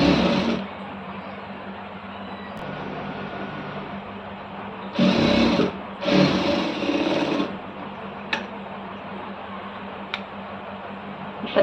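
A sewing machine runs stitches along blouse fabric in two short, close bursts of fast, even whirring, separated by quiet pauses with faint handling noise.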